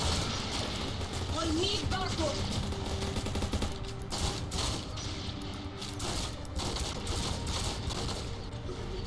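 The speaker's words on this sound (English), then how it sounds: "I'm just shooting in the sky!" Rapid gunfire fired skyward in the video game The Orion Project: a continuous stream of sharp, crackling automatic shots, loud and close, running under excited talking throughout.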